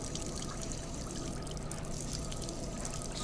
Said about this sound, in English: for the base, we're going to add some water